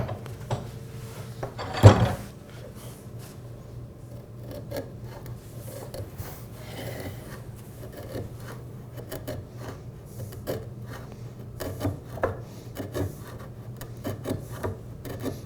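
A Melbourne router plane pares a chiselled hinge mortise in wood, making faint, intermittent scraping and rasping strokes with one sharper knock early on, all close and quiet with no talking.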